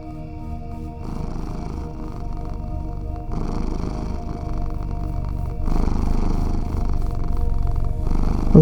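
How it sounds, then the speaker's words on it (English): A cat purrs deeply and steadily up close, a continuous low rumbling that swells in loudness over several long breaths, with no talking. "Out of the cat's own body, there is a deep, tangible purring"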